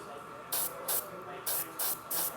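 Airbrush spraying light coats of basecoat paint gives five short hissing bursts, each about a fifth of a second, evenly spaced and close by, over a faint background hum.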